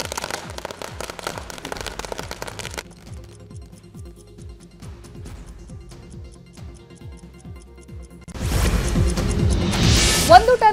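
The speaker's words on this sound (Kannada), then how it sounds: "ಪಟಾಕಿ ಸಿಡಿಸಿ ಸಂಭ್ರಮಿಸಿದ್ದಾರೆ" Firecrackers set off at a street celebration by a farmers' group, with a run of rapid crackling pops that swells into a loud, dense burst near the end, under a voice talking.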